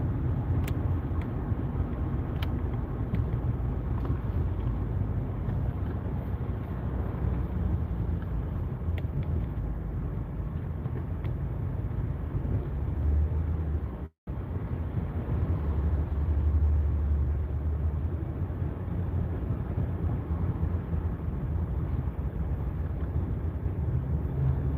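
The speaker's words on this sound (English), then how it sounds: "Man, the traffic is awful." Steady road rumble and tire drone heard from inside a car on a highway road trip from New Jersey to South Carolina, a continuous low, even roar for the whole stretch with one brief dropout, no voices.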